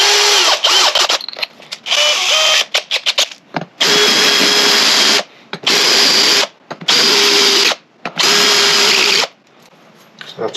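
Power drill boring a large bit through a disc brake component for a classic 1976 Mini Cooper S conversion; loud whining bursts, several short ones then four long runs with brief pauses, close up with no talk.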